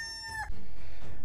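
A cartoonish chicken sound effect marks a poor verdict on a barbarian-faction champion in Raid Shadow Legends: a short, pitched cluck or crow for about half a second, then a dense noisy burst to the end.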